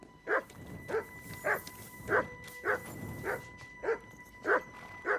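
A dog barks in a steady rhythm in the video game Kingdom Come: Deliverance 2, about nine sharp woofs spaced roughly half a second apart, with faint game ambience humming underneath.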